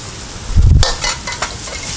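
Beans and carrots are tossed and stirred in a hot pan, with a short low thump from the stirring, a sizzle that flares once, then quieter scraping and hissing.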